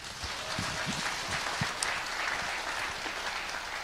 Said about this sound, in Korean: 자, 우리 박수하겠습니다